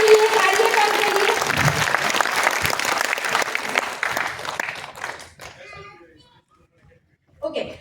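Loud applause from a large audience at an indoor gathering, dense and sustained for about five seconds before thinning out and fading to near silence, followed by a brief burst of noise at the end.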